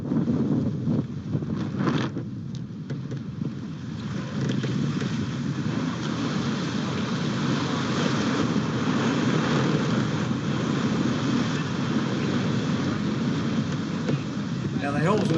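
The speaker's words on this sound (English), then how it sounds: "These waves are going faster than we are." A racing yacht runs before a nor'easter in the Sydney Hobart race, with steady rushing waves and wind noise surrounding the boat and a voice talking over it.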